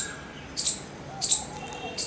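An Asian koel calls from far off in a garden, repeating short high whistled notes at intervals, faint over steady outdoor background hiss.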